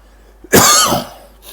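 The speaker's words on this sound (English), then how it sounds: "Sorry for the coughing." One sharp, close cough bursts out and then fades in a short rasp. The moment before and after is quiet.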